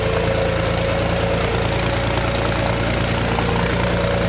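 A tractor engine labouring slowly up a hill at low revs, a loud, steady, rough drone with a constant low throb throughout, close by and unbroken.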